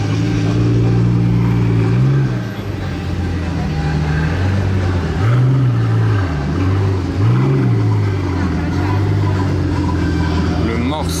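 A Pagani hypercar driven slowly toward a hotel car park in Monaco during the Grand Prix weekend, a loud low engine drone that rises and falls through several throttle blips over a busy street crowd with voices.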